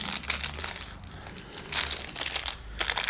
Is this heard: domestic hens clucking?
no